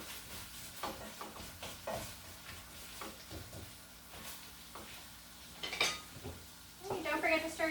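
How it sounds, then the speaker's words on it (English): Pasta being stirred in a pot while baked mostaccioli is made at home, with intermittent scraping and clinking of a utensil against the pot, light bubbling or sizzling, and a few brighter clanks near the end. "And don't forget to stir your pasta."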